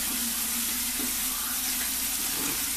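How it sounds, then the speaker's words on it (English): Tap water runs steadily from a faucet into a sink as cold water is used to rinse the face, a continuous even hiss with no voices. "Rinse off my face with cold water."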